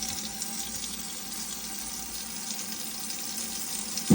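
Hot water flows from the tap of a Knaus 700 MEG caravan, giving a close, smooth, continuous gush into the sink with a small knock at the very end.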